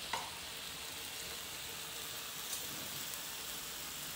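Bacon frying in a pan at home for breakfast, a steady, faint, even sizzle with a couple of small pops, heard alone without talk.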